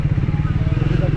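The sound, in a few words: motorcycle engine while riding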